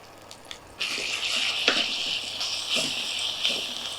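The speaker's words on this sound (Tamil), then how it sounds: "இதை அந்த பச்சை வாடை போகிற வரைக்கும் நல்லா அப்படியே வதக்கி எடுத்துக்கலாம்" Chili powder masala sizzling and frying in hot oil for paneer pickle, a steady bright hiss starting abruptly after a brief quiet moment and continuing with small crackles and stirring scrapes.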